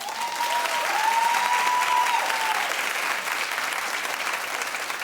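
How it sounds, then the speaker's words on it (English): Studio audience at a talk show clapping in a sustained, dense burst of applause, with a brief whistle or cheer rising above it early on before the clapping gradually eases. "Clap if Rachel needs to be there no matter what."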